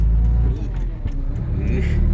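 A six-wheel truck's engine drives steadily with a low rumble, close and fairly loud, while people talk over it.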